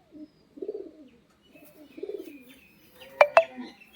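A male Giribaz pigeon gives two soft, low coos in sequence, close and alone, followed by a couple of brief sharp clicks near the end.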